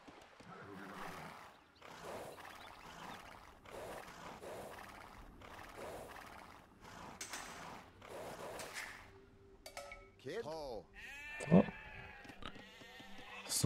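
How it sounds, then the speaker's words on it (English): Sheep bleat in Age of Empires 2 Definitive Edition, a few short animal calls near the end after a stretch of rhythmic in-game footsteps and ambient sounds. "Some sheep here."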